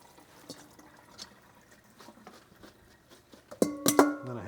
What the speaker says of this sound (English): I'm gonna strain through the greens. And it'll just wilt it lightly.